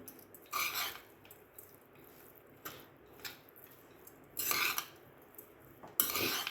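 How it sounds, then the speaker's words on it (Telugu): A spoon mixing lemon rice (pulihora) in a pan, a run of close scraping and clinking strokes in irregular bursts, some louder, with quiet gaps between. "ఒకసారి బాగా కలిపేసుకోవాలి"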